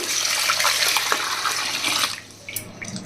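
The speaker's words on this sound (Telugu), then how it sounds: "ఇప్పుడు ఒకసారి నీళ్ళు పోసి కడిగేసి మళ్ళీ ఇంకో రెండు సార్లు రుద్దాలండి" Water is poured over small fish in a vessel as they are rinsed, giving a close, continuous splashing and sloshing that stops abruptly after about two seconds, followed by a few faint drips and handling sounds.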